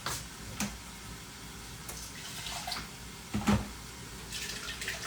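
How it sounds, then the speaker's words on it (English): Hot water is poured into a cooking pot of simmering curry base for pakora sabzi: a few short splashes and trickles, irregular and moderately close, over a quiet kitchen background. "I'm going to just put a little hot water in here."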